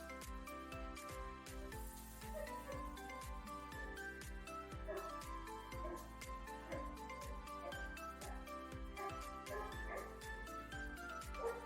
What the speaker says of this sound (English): Please excuse the neighbors' very noisy dogs.